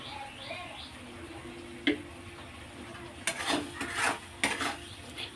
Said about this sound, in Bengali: মশলাটাকে খুব ভালো করে কষে নিতে হবে